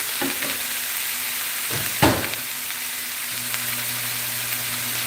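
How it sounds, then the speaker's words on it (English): Ground taco meat simmers in a pan on the stove with a soft, steady sizzle and a brief clatter partway through. "I have my meat cooking in the back simmering"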